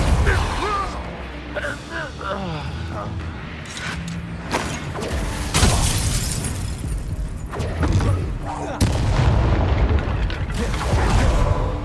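Explosions from the Bombarda blasting spell in Hogwarts Legacy: repeated heavy booms and bursts amid a thick, continuous wash of game sound effects, growing louder toward the end.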